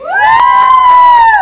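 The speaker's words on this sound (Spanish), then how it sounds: "A ver, un gritito, chicas." A group of female fans lets out one loud, sustained high-pitched scream close by, lasting over a second.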